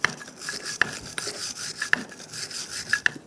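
A wire brush scrubs the rear brake caliper bracket of a 2015-2021 Subaru WRX in close, rhythmic rasping strokes, with several sharper scraping hits spaced about a second apart.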